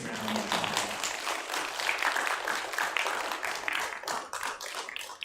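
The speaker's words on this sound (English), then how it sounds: "So give the organizers our big round of applause." A large audience at a keynote event for FANHS-GA and GT FSA breaks into loud, sustained applause, dense clapping filling the whole stretch without letting up, with no one talking over it.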